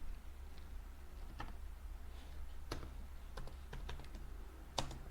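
Code being typed on a computer keyboard: sparse, faint key taps and a few sharper clicks over a steady low hum, with no speech.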